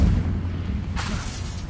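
An Incendio fire spell bursts in the Hogwarts Legacy video game: a low rumbling boom, then a brief whooshing flare about a second in, moderately loud.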